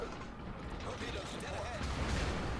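A French tier-6 premium cruiser, the De Grasse in World of Warships, fires muffled artillery booms amid steady mechanical clatter, with a continuous low rumble underneath and a voice faintly present.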